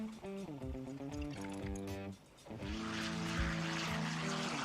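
Propeller aircraft flying at the Geneseo Air Show in Geneseo, New York, a loud droning engine with shifting pitch that dips briefly, then surges back with rushing wind-like noise.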